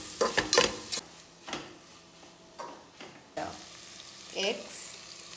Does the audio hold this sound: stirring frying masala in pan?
yes